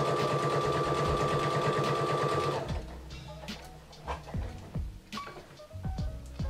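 Domestic sewing machine stitching a reusable fabric makeup remover wipe, a loud steady run of rapid needle strokes that stops after a few seconds, followed by small clicks and handling noises as the fabric is repositioned.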